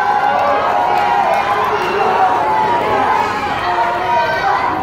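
A large wrestling crowd cheers for Omega in a loud, steady roar of voices and chatter that fills the whole moment without letting up.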